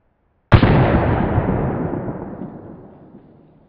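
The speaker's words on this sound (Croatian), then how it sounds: "Vidimo da je metak sigurno ušao." One sharp, loud gunshot is fired through a kevlar helmet with a watermelon inside, a sudden blast followed by a long echoing decay outdoors.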